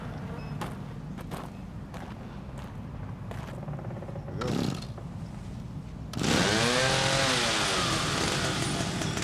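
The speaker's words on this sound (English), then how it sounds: "Of course, we ain't gonna keep the chainsaw because that'll be too easy, right?" A chainsaw in the video game The Evil Within idles and sputters with intermittent bursts, then revs up loud and steady for the last few seconds, with no talking.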